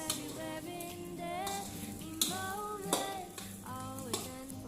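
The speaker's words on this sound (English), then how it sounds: "After that, we mix all the ingredients." A spoon scrapes and stirs white rice with browned ingredients in a pan for fried rice, soft scraping strokes with a few sharper clinks against the pan, no talk.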